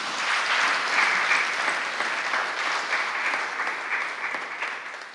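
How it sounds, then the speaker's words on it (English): A congregation at a Sunday church service applauds, a full, even clatter of many hands that holds steady and slowly eases off toward the end. "give her a round of applause"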